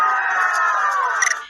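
A rugby league crowd roars in a loud, sustained swell of many voices that holds steady and then trails off after a second and a half.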